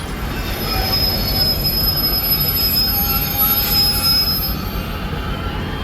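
A long freight train reverses slowly into a rail yard, its wheels letting out steady high-pitched squeals over a constant low rumble, heard close by with no talking.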